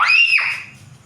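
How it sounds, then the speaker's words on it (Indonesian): A person lets out a short, sharp, high-pitched scream that starts loud and quickly falls away, followed by a faint quiet tail. "Jangan berteriak."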